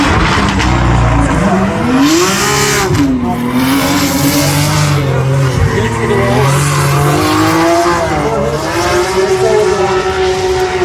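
A drift car corners at Drift Masters Riga with a loud, continuous engine roar and wavering revs that rise and fall throughout. Long tire squeal runs underneath, close and sustained.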